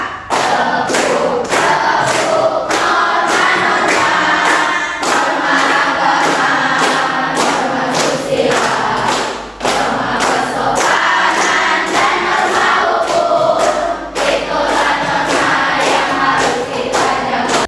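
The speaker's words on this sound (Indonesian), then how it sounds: "Siap untuk menyanyikan tepuk norma?" A classroom of students loudly claps and chants the tepuk norma yell together, rhythmic group claps and shouted voices filling the room without pause.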